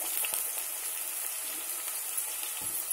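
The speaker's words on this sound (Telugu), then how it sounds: "ఇలా వేయించుకొని బాగుంటుంది, వేడుతున్నాయి." Chopped onions and beans frying in a pan give a steady, even sizzle throughout, with a couple of faint stirring knocks and no talk.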